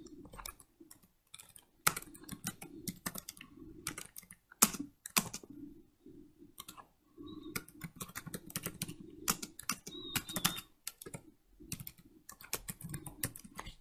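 Text being typed on a computer keyboard while notes are written, heard as rapid, uneven bursts of close, crisp key clicks with short pauses between runs and no talking.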